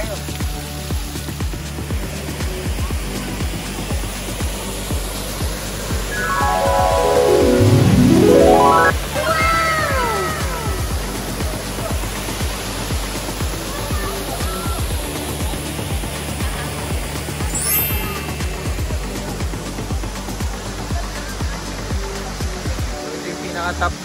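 Wentworth Falls in the Blue Mountains, heard from the top of the falls, gives a steady broadband rush of falling water that continues throughout. A whistling or sliding tone rises and falls over the rush partway through.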